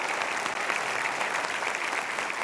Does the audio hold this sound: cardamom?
no